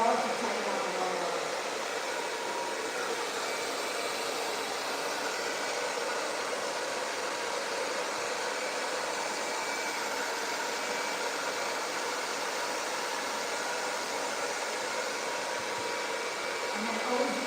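A hair dryer fitted with a diffuser runs steadily on medium airflow while drying curly hair, a continuous close whooshing blow that holds an even level throughout with no talking.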